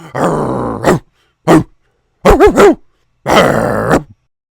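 Dog growling sound effect, loud and close: four separate growls and snarls with short gaps between, the third a wavering, rising-and-falling growl, each standing alone without talk.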